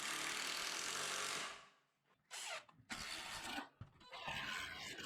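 Two short bursts of a power drill or driver running screws into a wooden post for a homemade pull-up bar, each a few seconds of buzzing whir separated by brief pauses, close and fairly loud.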